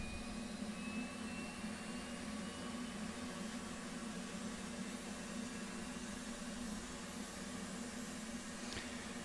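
Auxiliary power unit spooling up on an F/A-18 Hornet in the DCS World flight simulator, a steady loud jet whine and broadband roar that holds constant throughout with no talk.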